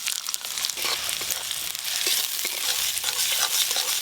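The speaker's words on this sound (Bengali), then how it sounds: "পেঁয়াজগুলো হালকা করে ভেজে নিয়েছি" Chopped onions fry in a pan for a village-style river fish curry, a dense, fairly loud crackling sizzle with soft stirring scrapes throughout, no speech.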